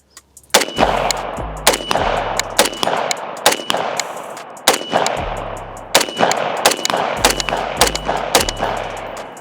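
A SIG MCX Virtus police-version rifle fitted with a three-position forced reset trigger fires rapid, loud bursts of shots with sharp metallic clangs, strings of cracks broken by short pauses throughout.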